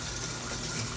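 A Maytag MVWX500XW2 washer fills with hot and cold water, a steady, close rushing hiss of flowing water with nothing else over it.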